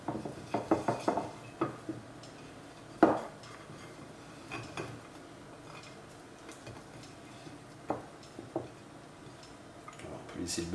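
Butter being spread across a gratin dish in a home kitchen while macaroni gratin is prepared, heard as a run of light clinks and scrapes near the start with scattered taps after, under faint talk.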